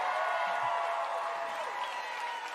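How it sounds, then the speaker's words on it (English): A talent show audience applauds in a large hall, a continuous crowd roar of clapping with some cheering mixed in, spread out and moderately loud throughout. "give a round of applause"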